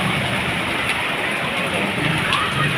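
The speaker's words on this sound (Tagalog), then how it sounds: "Malakas po ng ulan." A dense, steady hiss of heavy rain pouring down continuously in Cebu, the Philippines, close and loud, with no pauses or talking.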